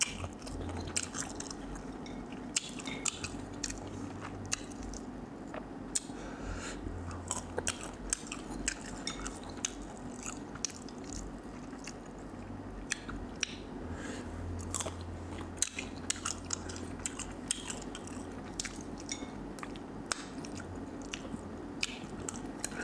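Tamarind eaten with shrimp paste, steady close chewing and biting with soft wet squishes and occasional crunches, continuing throughout with no talking.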